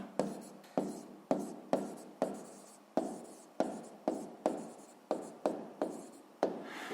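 Pen writing on paper during a sixth-grade math exercise, a steady series of quick scratching strokes about every half second, close and fairly quiet, with no voices.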